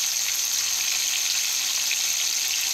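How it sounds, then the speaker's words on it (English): A steak sears in a hot pot with oil and butter, a dense, even hiss of frying that stays loud and constant throughout, close up and with no talking. "steak in a hot pot with oil and butter"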